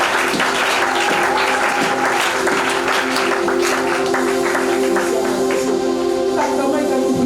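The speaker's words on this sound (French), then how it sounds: "Est-ce qu'on peut acclamer pour toutes les femmes de pasteurs qui sont ici?" A church congregation applauds the pastors' wives with a steady, dense burst of clapping that carries evenly from start to finish, with a faint crowd murmur and sustained tones underneath.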